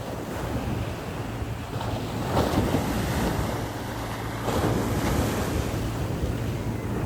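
Sea waves wash onto a beach in a steady, loud roar, with wind buffeting the microphone and a couple of swells rising and falling; no voices.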